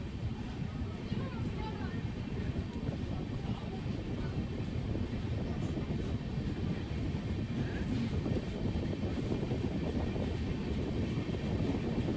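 Pahariya Express passenger train running on the Howrah–Digha line, a steady loud rumble and rattle of the carriage with wind noise throughout, continuous and close.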